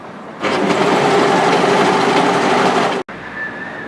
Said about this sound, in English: I'm using 4 threads, we're going to slowly overlock through